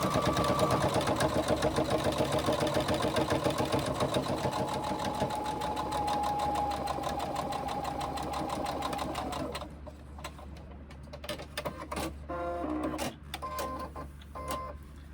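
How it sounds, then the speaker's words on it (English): A sewing machine stitches a seam at a 2.5 millimeter stitch length, a fast steady mechanical whir for about ten seconds, then stops and gives a few short bursts with pauses, close and alone. "Shorten my stitch length because we are now stitching it."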